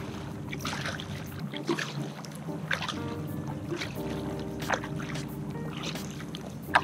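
A DIY electric kayak is paddled through water at low motor power, with soft repeated splashes and trickles from the paddle strokes over a faint steady hum, close and fairly quiet.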